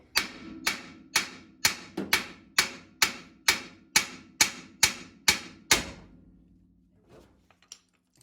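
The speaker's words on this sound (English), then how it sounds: "I'm going to tap on this upper ball joint here with a hammer" About a dozen sharp metallic hammer taps on the upper ball joint of a 1977 Chevy Camaro at a steady rhythm, loud and close, then quiet with a couple of faint knocks.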